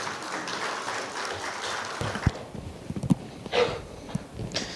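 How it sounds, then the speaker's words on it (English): Audience at a generative AI conference on customer experience claps for a speaker; sustained applause fades after about two seconds, leaving scattered claps, thumps and footstep-like knocks in a quieter room. "Let's have a huge round of applause for Mr."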